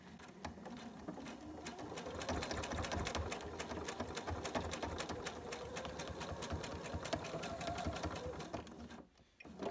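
Sewing machine stitches binding onto a fabric pouch bottom with a fast, steady mechanical whir and needle patter. It runs close and continuously for several seconds before stopping near the end.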